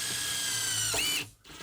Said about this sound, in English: That was the drill bit going through metal.